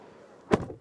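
A single car door on an MG HEV is pushed shut with normal force, giving one short, fairly soft thud at close range with no voices around it.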